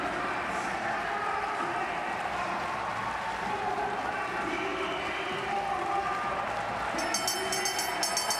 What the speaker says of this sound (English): Zheng Xinyi, the crowd is absolutely behind her at the moment